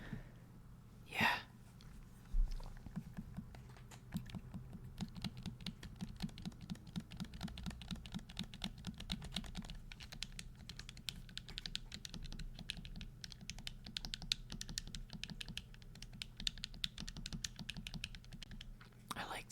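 Rapid, crisp clicking of buttons on a small Xbox-style game controller, a steady close run of light plastic taps continuing for the whole stretch with no voice over it.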